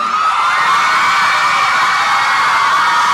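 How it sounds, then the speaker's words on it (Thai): Concert crowd at The Promenade screams and cheers in a loud, continuous wall of high-pitched shrieks, dense and unbroken, as a performer is welcomed onstage. "ขอเสียงกรี๊ดดังๆให้กับ พี่ชายอันสุดที่รักของผม"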